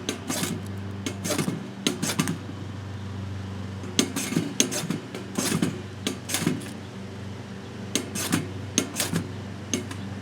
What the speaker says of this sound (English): I'm actually going to use their massive fire starter, their massive ferro rod, to start this.